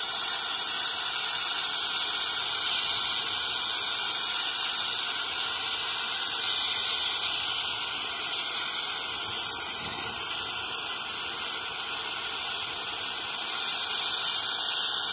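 Steady, loud hiss of a torch flame roaring continuously while melting copper in a red clay casting crucible, close and unbroken with no talking.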